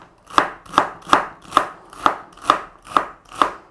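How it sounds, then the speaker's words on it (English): A knife chopping celery on a board for a chicken pot pie pasta, eight crisp, evenly spaced cuts in a steady rhythm, close and fairly loud with no talking. "And we're just going to chop it through."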